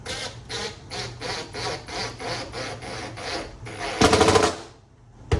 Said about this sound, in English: See if we can get a screw in there to hold it.